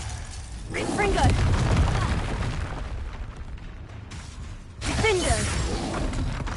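Confringo blasting spell explosions in Hogwarts Legacy, loud booming bursts with crackling debris, one swelling blast followed by a sudden second impact, mixed with vocal grunts and battle effects.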